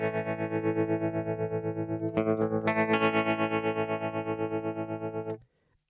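Electric guitar recorded on iOS through an amp simulator set to a dirty clean tone, sustained strummed chords with a pulsing modulated shimmer, a chord change midway, ringing out then stopping abruptly.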